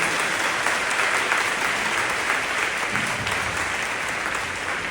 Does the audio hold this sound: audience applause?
yes